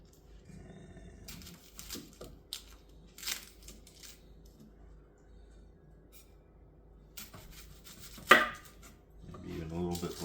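A knife chops half a white onion on a cutting board for pico de gallo. The cuts come as quiet, irregular taps over a faint background, with one sharper knock late in the clip.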